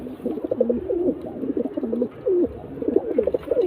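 Andra pigeons in a Khidirpur loft coo in close, repeated throaty warbling phrases that overlap steadily throughout.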